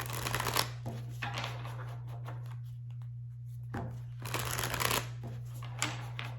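Tarot cards are shuffled close up in several quick riffling bursts separated by short pauses, over a steady low electrical hum, with no talking.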